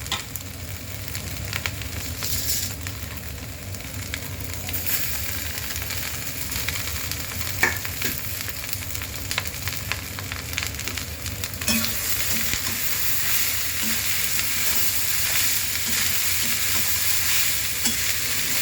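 Leftover rice, potato, egg and onion fry in a pan, a continuous sizzle and crackle with occasional stirring scrapes, steady and close, with no voices.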